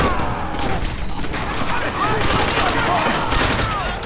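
Dense, continuous gunfire from the Call of Duty: World at War video game, with rapid machine-gun bursts and overlapping rifle shots forming a loud, unbroken battlefield barrage.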